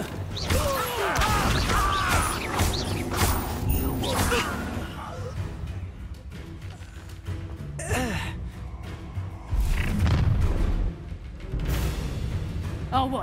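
Incendio fire spell cast in the video game Hogwarts Legacy, a whooshing burst of flame amid combat impacts and clashes, with voices exclaiming and talking throughout.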